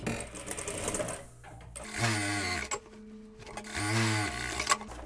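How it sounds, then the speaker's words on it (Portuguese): A sewing machine stitches around the outline of a jeans pocket, a close, steady whirring motor run broken by brief pauses and speed changes, with no talking. "E vou costurar só o contorno do bolso."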